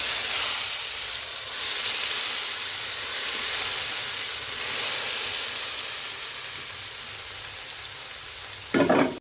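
A hot tempering of oil fried with carom seeds is poured into a kadhi curry, giving a broad, steady sizzle and hiss that fades slowly, with a short clatter at the end and no talk.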